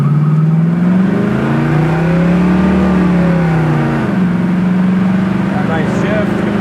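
A 1968 Chevrolet Camaro engine revs up loudly, dips briefly as it shifts gears, then climbs again, steady and close, with a voice talking over it.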